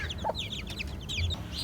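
Aseel chickens cluck in short, repeated bursts, close and clear over a low, steady background hum.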